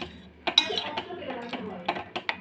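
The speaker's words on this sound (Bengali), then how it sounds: "এরপর এটাকে আমি ভালো করে নেড়ে নেব চামচ দিয়ে।" A spoon stirs mashed banana in a bowl, giving light clinks and scrapes of metal against the dish in an uneven rhythm, close and fairly clear.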